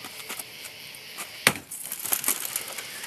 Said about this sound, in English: Do you want to try Libby's little hammer?